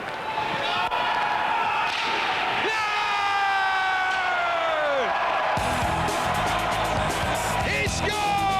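Hockey hometown crowd in an arena cheering and whooping during an overtime shootout, a loud sustained roar with rising whistles and horn-like tones that surges as the player shoots.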